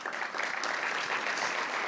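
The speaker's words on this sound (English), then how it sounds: "I want to give you a special round of applause" A brief burst of crowd applause, soft and distant, with dense steady clapping over a couple of seconds.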